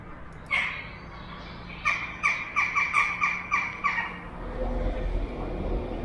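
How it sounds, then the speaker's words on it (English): Birds nesting at a train station call outdoors, one cry and then a rapid series of repeated caws, followed by a low rumble of an approaching Class 195 train. "it was very quiet, with only a few nesting birds to keep me company until the train arrived"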